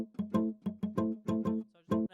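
Muted funk guitar loop from a virtual instrument preset called Funky Mutes A, triggered from a keyboard: short, choppy plucked chords in a tight syncopated rhythm, about eight clipped hits in two seconds, clear and dry with no talking.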